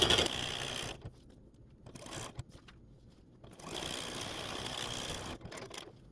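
Sewing machine stitching across a snowman quilt, quiet bursts of rapid whirring stitches separated by short pauses, close and alone.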